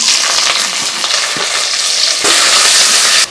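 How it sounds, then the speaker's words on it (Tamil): Chopped onions frying in ghee with fennel seeds, a loud close sizzle broken by repeated stirring strokes, the frying surging brighter toward the end. "அடுத்து கட் பண்ணி வச்சுக்கிற வெங்காயம் சேர்த்துக்கலாம்"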